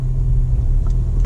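A manual car's engine hums low and steady as gas is slowly added and the clutch engages in first gear, heard from inside the cabin as a continuous close rumble.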